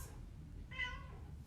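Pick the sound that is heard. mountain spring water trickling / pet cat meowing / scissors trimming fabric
pet cat meowing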